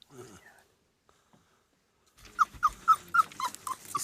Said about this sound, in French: Une femelle azawak rejoint le vieux chef avec ses chiots.